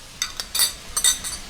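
Metal spoon scraping and clinking in a pan of fried chicken with a bowl of boiled corn, a few short bright strokes in an uneven rhythm, close and fairly quiet.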